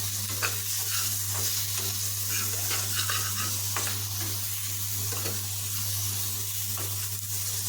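Amra pickle with a little turmeric and salt being stirred in a pan, a steady scraping and soft sizzle continuing without pause over a constant low hum, no talk.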